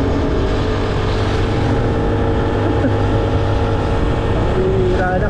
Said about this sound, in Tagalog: Napakatahimik ng makina.